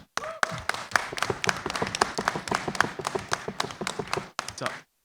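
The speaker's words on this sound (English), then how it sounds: "So can you get a round of applause for them?" Convention panel audience at a Power Rangers event claps in a brisk, uneven patter of individual hand claps, fairly close and sparse, ending abruptly after about five seconds.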